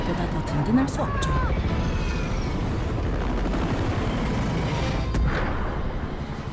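Gunfire in a war film battle scene, with rifle shots crackling amid a continuous dense rumble of combat noise and a few whistling sounds overhead.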